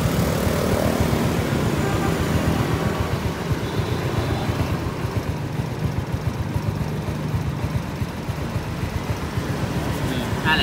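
A 2006 Honda Wave motorbike engine runs at a steady smooth idle, a continuous close putter that stays even throughout, with no speech over it.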